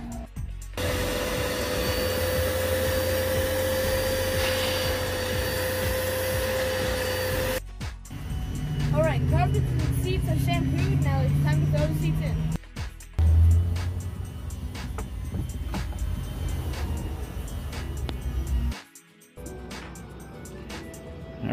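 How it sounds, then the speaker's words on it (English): A carpet shampooer working over the vacuumed carpets of a 2003 Jeep Liberty, a steady motor drone with bursts of gurgling suction and scrubbing, close and fairly loud, breaking off briefly now and then. "Now that we vacuumed the carpets, now we're going to shampoo it."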